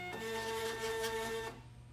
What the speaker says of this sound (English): It'll print a couple of labels